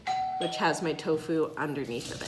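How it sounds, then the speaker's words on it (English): A doorbell chimes near the start as a steady tone, then someone talks over it in a home kitchen. "I apologize for the doorbell ring."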